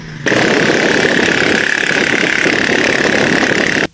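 A motorcycle taxi engine runs in a steady, loud, close idle-like drone for several seconds, starting abruptly and cutting off at the end, with no talk.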